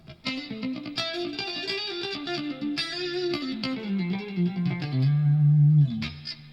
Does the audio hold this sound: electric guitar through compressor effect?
yes